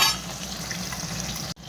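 Large fish pieces frying in oil, a dense continuous sizzle heard up close for under two seconds, with a brief cut just before the end.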